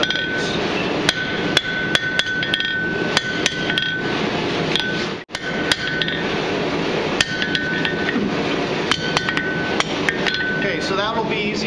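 Hot steel being hammer-forged into a dragon head letter opener, with loud, sharp, ringing blows on an anvil repeating in quick bursts with brief pauses, close and dominant over a steady workshop hum.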